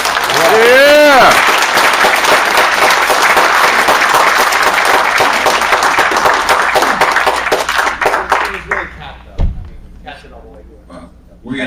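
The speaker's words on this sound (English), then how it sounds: "so I'd like you to stand so we can offer a round of applause." An audience gives a sustained round of applause at a forum discussion, loud and dense clapping that runs for several seconds before thinning out, with a cheer near the start and a voice coming in near the end.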